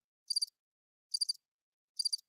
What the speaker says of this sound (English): You got the Crickets on there?